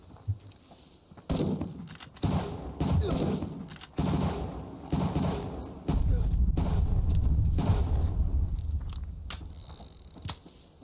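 Gunfire in a survival video game, several sharp reports spaced irregularly over mechanical clanks and rumble, fairly close and loud.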